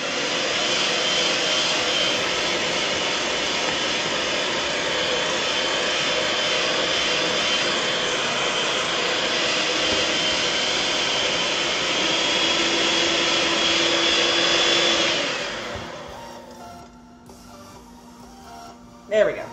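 Small electric whisk whipping meringue to stiff peaks for an ombre chocolate cake, a steady high-pitched motor whir running continuously up close before winding down and stopping near the end.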